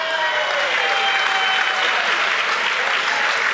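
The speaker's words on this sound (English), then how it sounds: "She's gotten a round of applause" Steady, dense applause from a room of attendees at a chamber of commerce coffee meeting, sustained for a few seconds after a raffle winner is announced, with no talk over it.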